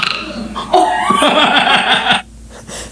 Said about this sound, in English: When he burps like that, it's like he's saying, no, but I can say this. And then burps.